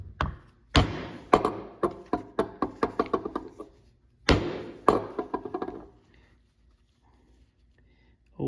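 A 6-stitch chisel is hammered through leather with two series of sharp, close knocks: one heavy blow followed by quicker, lighter taps, repeated, then silence.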